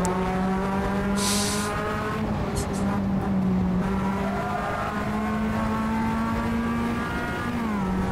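A Mazda MX-5 engine in the racing game Assetto Corsa drones steadily at high revs, with shifting pitch and brief tire squeals, close and loud throughout.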